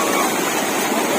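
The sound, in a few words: waterfall, water falling from above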